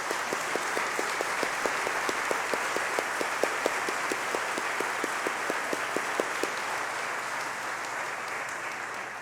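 A church congregation applauds the choir, a sustained wash of clapping with one nearby clapper beating a steady rhythm that drops away toward the end.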